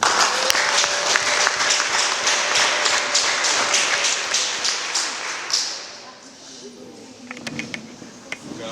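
Church congregation applauding, brisk rhythmic clapping from many people for about five seconds that fades out, followed by quieter room sound with a few taps and voices.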